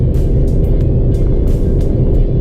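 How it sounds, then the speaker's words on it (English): Stage 2 Ford Fiesta ST with a Turbosmart recirculation valve accelerating, a loud, steady low engine drone with induction roar from inside the car and a few brief hissy bursts on top. "as you're accelerating, you do get a lot of induction noise"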